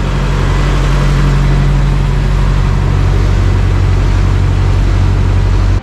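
A Toyota truck engine idles steadily after a body drop, with a loud, constant low rumble that holds unchanged throughout, up close and without talk.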